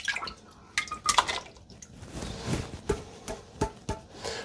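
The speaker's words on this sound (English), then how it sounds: "I put a little bit of water in there because there's always goodies at the bottom of the can." Water is poured into a crock pot holding emptied cans of beans and diced tomatoes, giving irregular splashes and drips with a few sharp clinks of cans and the pot, close and fairly quiet.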